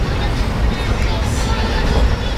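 Interior of a crowded passenger train running from Coimbatore to Kochi in India, a loud constant rumble and rattle of the carriage with low clatter filling the whole moment.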